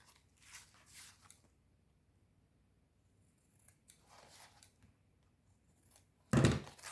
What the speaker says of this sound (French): Je vais couper mes coins.